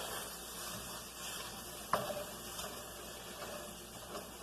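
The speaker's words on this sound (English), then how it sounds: "Now, as this cooks, you want to chop it up so that you don't end up with one big blob of ground meat." Ground meat sizzles steadily in a cast iron pan for taco filling while a Pampered Chef meat chopper breaks it up, with one sharp scrape or knock near the middle over a constant hiss.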